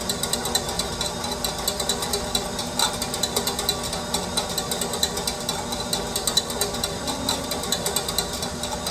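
A KitchenAid stand mixer whips egg whites with cream of tartar for a lemon meringue pie, giving a steady motor whir with a fast rhythmic ticking beat throughout, no talking.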